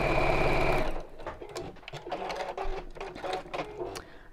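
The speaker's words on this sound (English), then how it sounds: "don't pull the fabric, because it is stretchy, so don't stretch it too much when you're sewing it" A domestic sewing machine runs in a steady, loud mechanical whir for about a second while stitching stretchy fabric, then stops, leaving soft ticks and handling noises.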